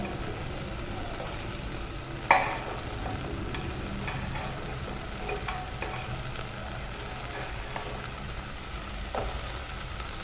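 Fish frying in a pan gives a dense, continuous sizzle while being stirred, with occasional light clinks and scrapes and one sharper knock early on. Nobody speaks.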